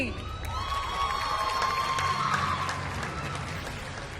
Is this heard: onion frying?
no